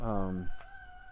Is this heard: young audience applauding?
no